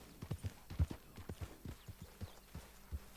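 A horse walks slowly in the Red Dead Redemption II video game on Xbox One, its hooves clip-clopping in an uneven, plodding rhythm of soft, close thuds at low volume.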